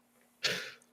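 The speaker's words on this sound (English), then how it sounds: "Oh, this cough is in character now." A single sharp cough bursts out of near silence, loud and close, then trails off over about half a second.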